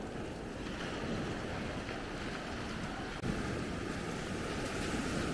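Small ocean waves at the beach in Maspalomas, a soft continuous wash of surf mixed with wind noise, steady and fairly distant, with no voices.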